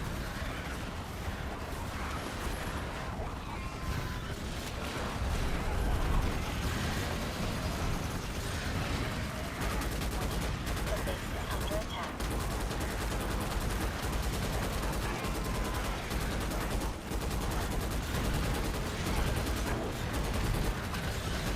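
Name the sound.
gunfire from the video game Starship Troopers Extermination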